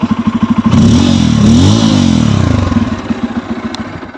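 Close up, a Bajaj Pulsar N250 with a dual-barrel exhaust drops from a chugging idle into one loud rev that swells, wavers and then falls back to an uneven idle thump.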